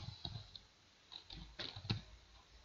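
Soft, close keystrokes on a computer keyboard as a Linux terminal command is typed, a short burst of a few irregular clicks with quiet gaps between them.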